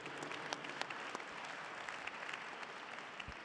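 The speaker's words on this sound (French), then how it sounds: "Perrine, peut-être, on peut l'applaudir." Applause from an audience at a public debate on democracy, dense and steady throughout with sharp individual claps scattered in the broadband wash, moderately distant.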